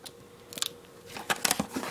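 Scissors snip through plastic packaging on a new Xbox 360, with a couple of crisp cuts followed by a louder cluster of crunchy snips and rustling, close by with no talk.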